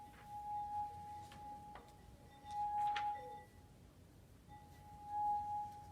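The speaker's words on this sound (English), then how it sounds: "in order for the glass to make a noise, you have to move your finger" A wine glass sings as a wet finger circles its rim, producing a clear sustained ringing tone that swells and fades in three separate passes, quiet overall with faint soft clinks between them.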